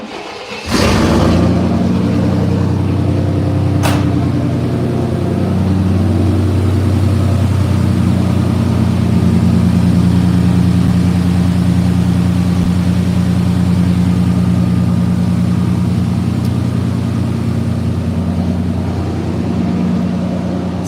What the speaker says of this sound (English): now the exhaust is loud because it's just straight pipe